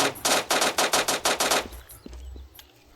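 Rapid automatic gunfire from a first-person shooter video game bursts out close and loud, about ten sharp shots in quick succession, then stops, leaving a few faint clicks and low rumble.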